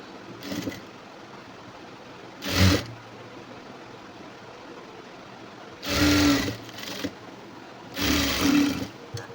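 An electric sewing machine stitches a high neck blouse in short whirring bursts, four runs of rapid mechanical buzzing separated by quiet pauses, close and loud.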